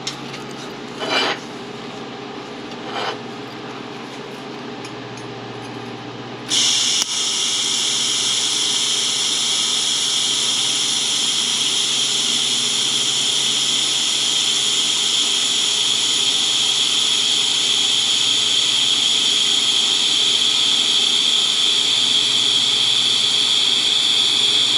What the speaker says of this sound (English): I'll weld the inside, that way it does not open up while we're welding the other side.